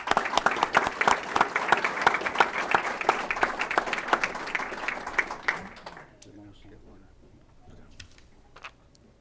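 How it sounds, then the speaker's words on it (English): An audience at an energy presentation for a school district claps in a loud sustained round of applause that tapers off after several seconds, leaving a few scattered claps and faint room noise. "good round of applause for those guys"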